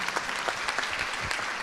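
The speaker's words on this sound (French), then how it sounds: "on peut les applaudir." Audience at a conference on stroke breaking into dense, steady applause, many hands clapping together in a warm, continuous patter with no one speaking over it.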